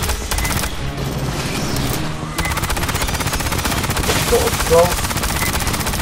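Rapid automatic turret fire in Aliens Fireteam Elite, a dense continuous stream of shots that grows denser partway through, with a voice speaking briefly near the start.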